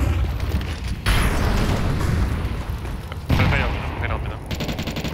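Two HE grenades detonating in Counter-Strike 2 on the Anubis map, each one a sudden loud broadband boom followed by a rumbling tail, the second about two seconds after the first, over continuous game noise with voices talking.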